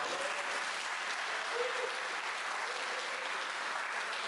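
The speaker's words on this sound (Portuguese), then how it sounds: "Uma salva de palmas." Congregation at a church service giving a round of applause, a continuous, fairly distant hiss of many hands clapping, even and unbroken, slightly muffled.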